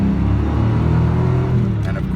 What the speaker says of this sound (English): That was about half throttle, and it moves you down the road more than quick enough to satisfy most people.